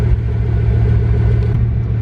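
Bugatti Veyron hypercar engine droning at a steady, fairly subdued low rumble heard from inside the car, continuous without distinct revs.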